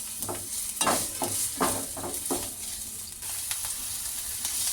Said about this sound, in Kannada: ಈಗ ಇದನ್ನೆಲ್ಲ ಚೆನ್ನಾಗಿ ಫ್ರೈ ಮಾಡ್ಕೊಳ್ಳೋಣ